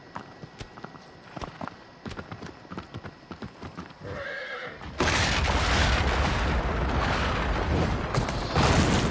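A horse in the video game Shadow of the Colossus clops its hooves in a steady rhythm, then gives a short whinny, followed by a loud, sustained rushing rumble that drowns everything out.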